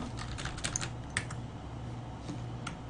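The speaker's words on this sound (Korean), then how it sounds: "아니 키보드가 안돼." Rapid keystrokes on a computer keyboard during a Starcraft match, a quick irregular patter of light clicks with a few louder taps, close up over a steady low hum.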